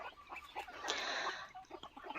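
Egyptian Fayoumi and local chickens, about two months old, give a short burst of clucking and squawking, close and moderately loud over a quiet background.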